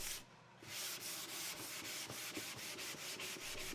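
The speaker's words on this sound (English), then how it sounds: "Then a final sanding around the sides." Hand sanding the wooden sides of a handmade psalmodikon, heard close up as quiet, steady back-and-forth rubbing strokes in a regular rhythm, with no talk.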